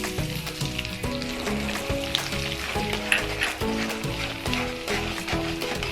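Dry coconut roasting in a pan for poha chivda gives a steady, close sizzle and crackle, with repeated rhythmic stirring scrapes and taps running through it and no talking.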